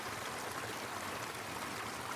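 A river in spate at a trail crossing roars as a dense, unbroken rush of water, steady and fairly loud with no talking.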